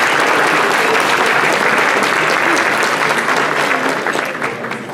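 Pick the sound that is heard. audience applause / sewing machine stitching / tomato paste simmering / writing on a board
audience applause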